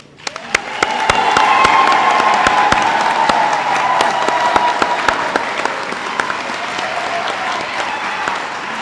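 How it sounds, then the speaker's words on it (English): Loud, sustained audience applause fills a university Vice-Chancellor installation and investiture ceremony, building quickly and holding steady as a dense wash of clapping with sharp individual claps standing out. "let's give the new Vice-Chancellor a hand of a huge applause."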